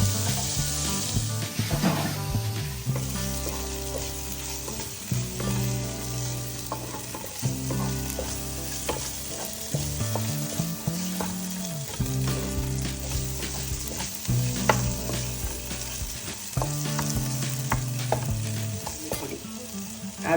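Onions and tomatoes fry together in a pan for a green peas masala, crackling and sizzling steadily up close, broken by repeated stirring scrapes, with no one speaking.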